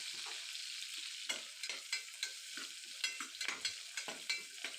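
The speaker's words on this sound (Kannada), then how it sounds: "ಒಂದೆರಡು ಈರುಳ್ಳಿ ಕಟ್ ಮಾಡ್ಕೊಂಡಿದ್ದೀನಿ. ಅದನ್ನು ಸ್ವಲ್ಪ ರೋಸ್ಟ್ ಮಾಡ್ಕೋಬೇಕು." Chopped onions sizzle and fry in a pan, with a steady hiss broken by repeated clinks and scrapes of stirring, close and clear with no talk.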